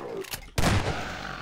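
Shotgun-like blasts fire in Half-Life 2's Ravenholm, with two loud, sharp shots in quick succession, the second followed by a ringing decay.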